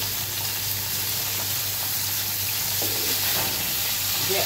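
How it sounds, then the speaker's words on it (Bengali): Baila river fish frying in plenty of oil, a steady, dense sizzle and crackle that holds evenly throughout with no speech over it. "একে একে সবগুলো বাইলা মাছ ঠিক এইভাবে আমি ভেজে নেব।"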